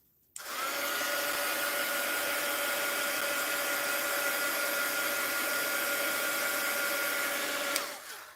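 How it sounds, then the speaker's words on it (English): A heat gun blows steadily on mixed-media art, a loud, even whooshing roar like a hair dryer that switches on abruptly and runs unbroken for about seven seconds before cutting off, with no talking. "Heat gun alert."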